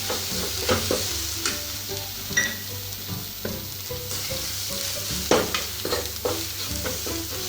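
Spoon scraping and stirring sambar powder in a hot pan over a steady sizzle, with irregular clinks and scrapes close by.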